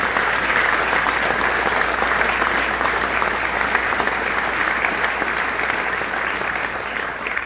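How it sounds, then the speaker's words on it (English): A large audience at a Legends of the Outdoors Hall of Fame induction at Bass Pro applauds in a loud, sustained roar of clapping that holds steady for several seconds before easing slightly. "I think we should all give them a round of applause right now"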